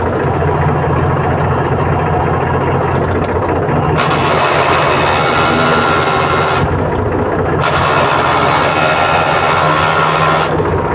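A tractor engine started and left running, a loud steady low diesel drone with a constant rumble and a brighter rasp that briefly swells twice, with no speech over it.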